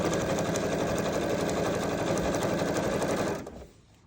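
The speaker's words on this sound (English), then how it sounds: "We're just going to sew right down this side, 1/4 of an inch in." Sewing machine running steadily as it stitches 2.5-inch quilt binding strips with a quarter-inch seam, a loud close buzzing whir that continues for several seconds and then stops abruptly.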